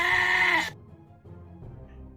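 A goat-bleat sound effect, triggered by stream channel points, gives one loud, nasal bleat that cuts off sharply, followed by faint low background noise.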